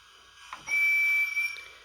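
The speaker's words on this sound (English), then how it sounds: "So there's Whistle." A single thin, high toy train whistle from a Lionel LionChief remote sounds for about a second over a faint background hiss, clear and close.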